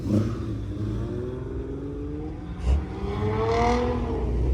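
A Lotus car accelerating nearby, its engine rising in pitch in a steady climb, briefly interrupted by a short burst before revving up again louder.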